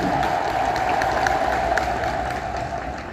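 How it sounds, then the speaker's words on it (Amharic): A church audience applauds a preacher with sustained clapping and a high, wavering ululation running beneath it, loud and close at first, then easing slightly toward the end. "እስኪ በደንብ እልል ብላችሁ አጨብጭቡላቸው።"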